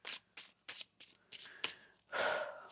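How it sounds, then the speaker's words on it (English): Tarot cards are shuffled by hand in a series of short crisp riffles and taps, evenly spaced, ending in a longer soft rustling flourish, quiet and close. "One more shuffle here."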